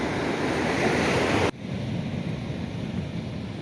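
Sea waves wash continuously onto a rocky fishing shore on the coast, a dense steady roar with wind buffeting the microphone and no one speaking; the sound drops abruptly for a moment, then resumes.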